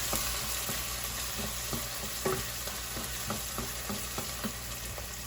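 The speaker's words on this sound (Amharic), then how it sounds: "ቆንጆ ሆኖ ሽንኩርት በደንብ ሆኖ ተጠብሶልኛል እንደምፈልገው ሆኖ።" Onions fry steadily in oil in a pan, a constant sizzling hiss broken by soft scraping stirs, loud and close with no speech.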